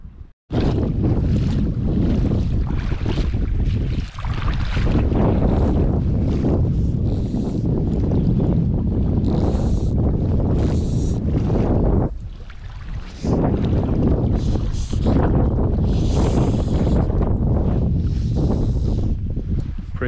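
Strong wind gusting outdoors beside a lake in Iceland, a loud, continuous roar buffeting the microphone with surging bursts and brief lulls, no voices heard.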